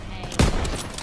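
Machine gun fire from a hayloft in Call of Duty WWII, a single loud, abrupt burst of shots over a busy battlefield background, very short and close.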